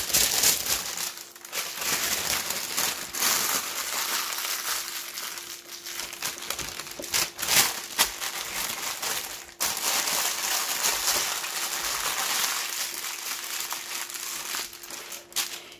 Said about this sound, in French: Je vais tout simplement fermer le papier cuisson.